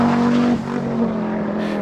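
An Audi Quattro rally car racing on a historic rally stage, its engine roaring close and loud with a strong steady drone that shifts pitch partway through as it passes, under two seconds long.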